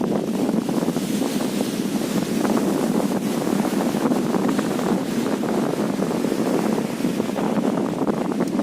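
Strong wind buffeting a microphone outdoors, a loud continuous rumbling roar with constant gusty flutter throughout, no other sounds standing out.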